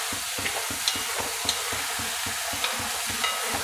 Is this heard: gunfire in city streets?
no